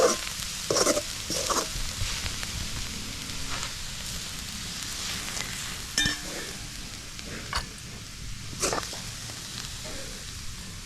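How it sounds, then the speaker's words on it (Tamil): Ponnanganni greens fry in a pan in a village kitchen, a steady soft sizzle with scattered crackles and a few sharper stirring clicks throughout, fairly close and without talk. "எங்களுக்கு பொன்னாங்கண்ணி நல்ல வறுபடுறது"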